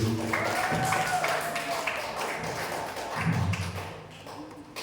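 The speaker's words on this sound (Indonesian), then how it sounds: "Lagi-lagi saya minta tepuk tangan yang dulu." An audience claps at a student Aswaja quiz final for National Santri Day, a continuous patter of clapping with some louder thumps, while a voice and other sounds mix in underneath.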